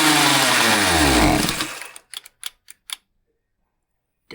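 Primer bulb on a Husqvarna 543XP chainsaw pressed by hand, a short series of about five quick, close plastic clicks and squishes after a fading loud noise, then silence.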